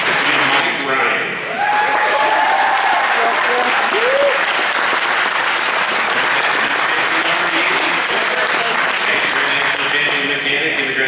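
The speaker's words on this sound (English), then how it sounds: "One more time, fans, round of applause for everybody up on the stage" Sustained audience applause fills a banquet hall at a racing awards ceremony, loud and continuous with a brief dip near the start, scattered cheers and chatter mixed in.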